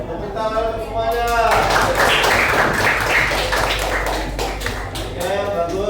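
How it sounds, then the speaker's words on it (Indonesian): A classroom of primary pupils claps together in a dense burst of applause that swells after a brief opening and holds steady, while a voice talks briefly at the start and end. "Tepuk tangan untuk semuanya."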